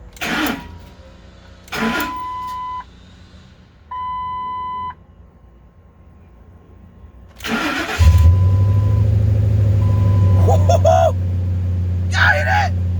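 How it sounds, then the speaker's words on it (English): A car engine cranks in several short bursts with beeping between them, then catches and settles into a steady, loud idle, with a person's voice heard near the start. "They say the proper thing to do is bump it over 2-3 times before you crank it up."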